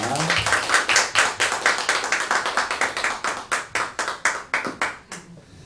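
A church congregation gives thanks after a special lecture with loud, brisk clapping, many hands beating in a fast, fairly unified rhythm that continues strongly before tapering off at the close.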